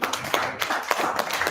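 Clapping from an audience at a regional engagement meeting after a panel, a brief burst of scattered hand claps with irregular sharp peaks, moderately close and without voices over it.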